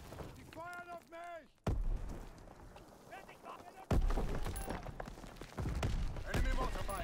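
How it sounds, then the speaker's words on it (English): Mortar fire in the Call of Duty WWII video game, several heavy thudding impacts landing in sequence amid a noisy multiplayer battle, with a spoken announcer voice and talking over the blasts. "Enemy mortar fire incoming."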